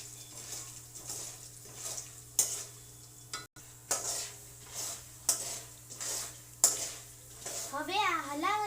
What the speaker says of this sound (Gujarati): હવે પાછું તેને થોડુંક ચલાવી લઈશું અને ગેસની ફ્લેમ ધીમી કરી નાખશું. સારી રીતના હલાવી લેશું.